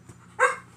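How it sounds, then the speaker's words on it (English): A single short, high yip from a puppy, close and fairly loud, standing alone after a faint softer sound. "It's your baby puppy."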